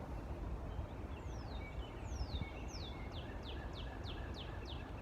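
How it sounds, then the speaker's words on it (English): A bird sings a series of about ten descending whistled notes at a steady pace, faint and distant over a low background hiss. "I listen to the birds singing."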